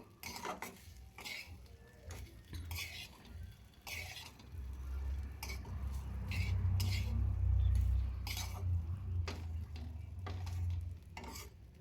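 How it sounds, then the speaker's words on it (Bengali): Okra (bhindi) being stirred with masala in a pan, metal utensil scraping and clinking against the pan in bursts over a low steady frying rumble that swells midway, with no talking. "মশলার সাথে ভেন্ডিগুলো ভালোভাবে মাখিয়ে নেব"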